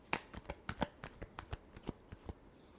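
A deck of tarot cards is shuffled by hand close up, with a run of about a dozen sharp riffling snaps in an uneven rhythm and no talking.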